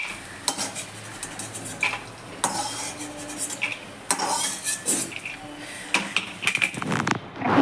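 Fried lentil dumplings (bori) lifted out of oil in a pan, with close metal scraping and clinks of a spatula against the pan over a faint sizzle, in irregular bursts.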